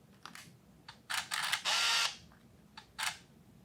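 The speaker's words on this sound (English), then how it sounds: "it's a pretty good shutter button" Shutter button presses on a Ricoh FF-9S 35mm compact camera: a handful of short, crisp mechanical clicks with one longer whirring burst in the middle, close and clear in a quiet room.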